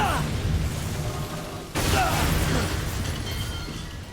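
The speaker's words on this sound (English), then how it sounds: "With that explosion, we make our way to the ladder" A loud explosion in the survival horror game Resident Evil 7 erupts suddenly about midway, a sharp burst followed by crackling debris over a constant rumbling background.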